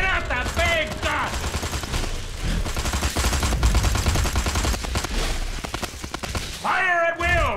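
A big gun firing in the Destroy All Humans video game, a dense, loud burst of rapid gunfire and blasts rolling on for several seconds, with a voice speaking briefly at the start and end.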